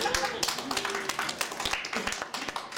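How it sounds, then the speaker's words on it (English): A comedy roast audience claps in a round of applause, a dense spatter of hand claps with some voices mixed in, fairly close and steady throughout. "So round of applause for that."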